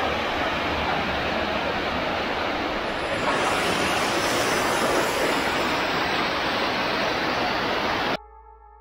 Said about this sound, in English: This is the Vattakanal waterfalls.